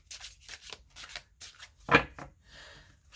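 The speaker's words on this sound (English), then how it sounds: "Give it a little shuffle." Tarot cards being shuffled in several short riffling bursts, with one sharper, louder riffle near the middle, close and fairly quiet.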